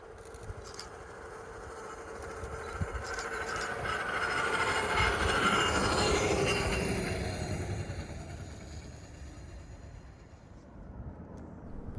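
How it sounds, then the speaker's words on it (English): A Union Pacific flanger train passes on Donner Pass near Soda Springs in winter, a broad steady rumble of rolling rail cars that swells toward a peak midway and slowly fades, with no talking. "Union Pacific flangers are often seen running in the winter and early spring to help keep freight and passenger services moving over Donner Pass."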